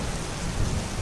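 Steady ambient rain hisses densely across the whole stretch while low thunder rumbles underneath, swelling slightly, with no voices.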